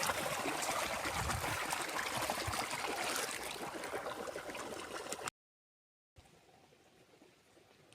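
Irrigation water runs steadily through a farm channel, a broad continuous rushing flow that holds up for about five seconds, cuts out briefly, then returns fainter and more distant.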